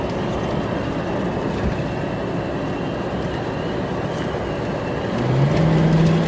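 A 1977 Cadillac Seville on the road, a steady low engine and road rumble, with a slight rise in engine tone near the end as it shifts down.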